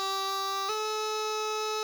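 A brief G grace note flicks into a sustained B, played slowly as the opening of Jolly Old St Nick on a bright, reedy pipe-like instrument, a single clear held tone after the quick ornament.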